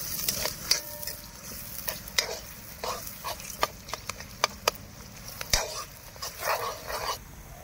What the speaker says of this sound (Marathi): आता टाकते खडा मसाला, आता मिक्स करून घ्यायचं।